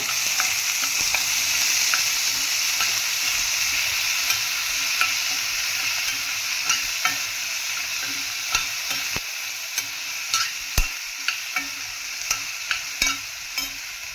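Raw tomato rice mix sautéing in a hot pan, a close, steady sizzle and crackle throughout, with light spatula taps and scrapes stirring it at irregular intervals.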